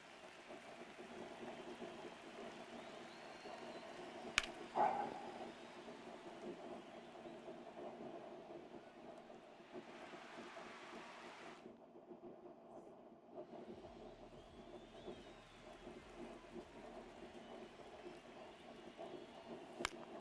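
Rain with rolling thunder during a baseball game in MLB The Show 26, a soft steady patter under faint low rumbles, with a couple of brief sharp knocks.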